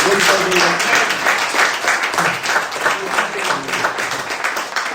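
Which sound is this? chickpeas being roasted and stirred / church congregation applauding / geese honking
church congregation applauding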